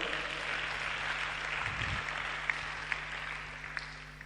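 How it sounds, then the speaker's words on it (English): Applause from the audience at a motivational talk at a student leadership event, a steady wash of clapping filling the room at moderate level, with a few sharper claps standing out near the end. "Also give yourself another round of applause very well"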